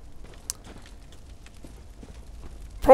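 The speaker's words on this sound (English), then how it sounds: "Is that a burning horse?" A burning horse in the Bloodborne video game gives soft, uneven clip-clopping hoofbeats, faint and distant, ending in a sudden louder burst.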